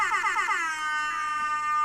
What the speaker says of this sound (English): Yes, I got air horn. Air horn confirmed.